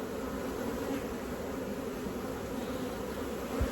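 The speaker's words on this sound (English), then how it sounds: "sifting through the bees" Honey bees in an open hive box give off a dense, steady buzzing drone that fills the whole moment at an even, moderate level, with no voices.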